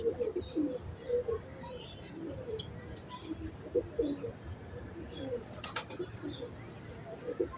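Pigeons on a Lahore rooftop coo repeatedly in soft, low bursts close by, with scattered chirps and brief rustles throughout, while people talk in the background.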